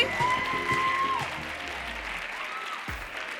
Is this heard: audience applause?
yes